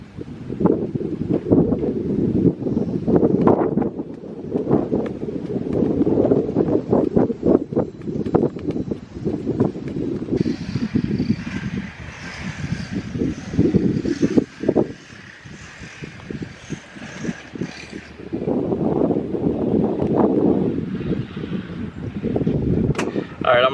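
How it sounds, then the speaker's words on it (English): Strong wind buffets the microphone in gusty, rumbling bursts out on a golf course, with a quieter stretch in the middle where a person speaks. "Yeah, a lot of wind today, so we gotta take that into account going forward."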